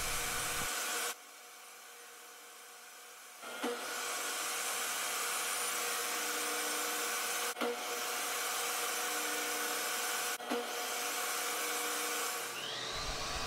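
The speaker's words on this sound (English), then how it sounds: "Then it was time to break out one of the sleds, so I could cut the rabbets on all the panels" A table saw fitted with a dado blade and a sled cuts rabbets into panels with a loud, sustained whine. It starts after a short quiet spell, and a few sharp ticks and knocks sound as each pass is made.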